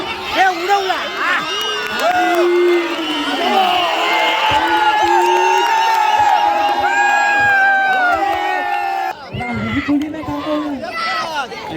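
Spectators roar and cheer at a village kabaddi match in Raigad, a dense, loud crowd with whoops and shouts that keeps up almost unbroken, dips briefly near the end, then swells again.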